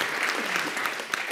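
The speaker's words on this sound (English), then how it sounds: "Okay, applause." Brief burst of audience applause at a scientific lecture, dense even clapping filling the room for just over a second.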